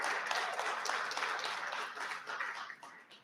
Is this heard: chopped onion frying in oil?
no